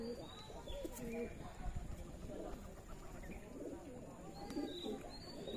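Pigeons cooing at a pigeon farm, soft repeated low coos with scattered chirps and a faint flutter, fairly close, with a voice talking faintly underneath.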